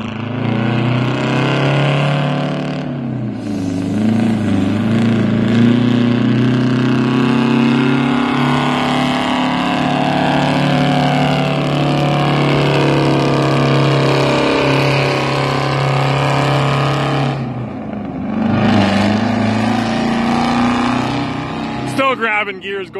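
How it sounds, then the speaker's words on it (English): A loaded grain truck hauling canola rolls through a farm yard, its engine droning steadily with two brief drops in pitch as gears are changed. The sound stays close and loud throughout. "Grabbing gears, going through the yard."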